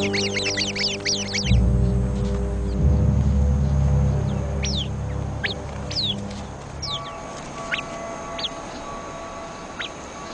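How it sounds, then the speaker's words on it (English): Birds in a flock giving sharp, repeated alarm calls as a viper approaches, with high chirps and squawks rising over a busy background of low rumbling and mixed calls throughout. "The sentry bird immediately sounds the alarm."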